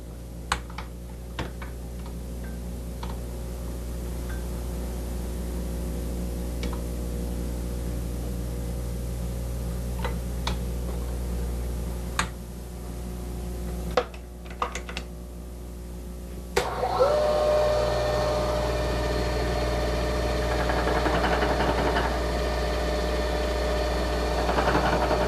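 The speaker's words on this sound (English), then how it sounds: "fine-tune the cutting operation based on what the machine is telling us by the chatter, by the vibration and noise" A metal lathe runs in back gear while cutting, with a steady mechanical hum and whine, scattered sharp ticks and a rougher, louder buzzing chatter that sets in partway through and continues to the end.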